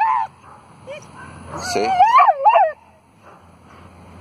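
A dog whimpers and yips in short, high, wavering cries, with a few excited bark-like bursts in the middle, close by; a person speaks briefly.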